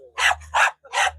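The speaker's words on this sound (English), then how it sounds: "We've got a little dog joining our commentary at the moment." A small dog yips three sharp barks in quick succession, close and fairly loud, at a cricket match commentary position.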